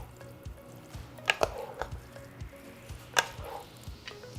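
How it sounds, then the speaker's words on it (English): Seafood pie filling is stirred in a pot for a few seconds: wet squishing and scraping strokes over a low background hum, with two sharper clinks standing out. "give it a good stir"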